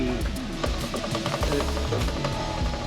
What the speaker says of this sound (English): That chain doesn't sound very happy.